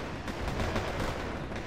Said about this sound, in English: there's the Sapri firing off its flamey flame launcher